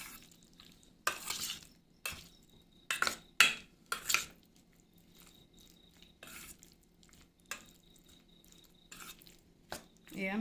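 Chicken meat being mixed with spices in a bowl: a series of separate clinks and scrapes of a spoon against the dish, spaced irregularly over a quiet background.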